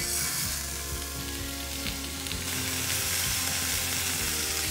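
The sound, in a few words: involtini meat rolls sizzling while frying in a pan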